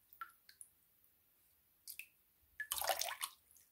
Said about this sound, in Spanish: Con la cuchara podemos tirar el agua de golpe o en un chorrito.